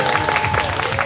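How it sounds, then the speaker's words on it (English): Audience applause at a live community event, a steady wash of clapping from a crowd filling the short moment without pause, fairly loud and continuous. "We need more round of applause again."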